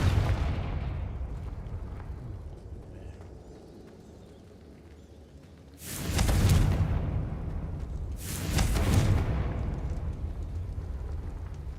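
Two Confringo blasting-spell explosions from the game Hogwarts Legacy, loud bursts about two seconds apart, each trailing off into a rumbling decay over quiet background ambience.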